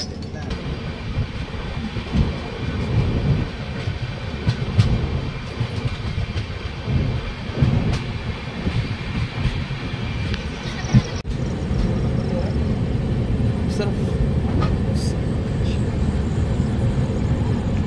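A Devagiri Express train rumbles and rattles nearby as it arrives at Purna Junction, with a steady rolling roar of wheels on track and a few faint clicks and screeches over it.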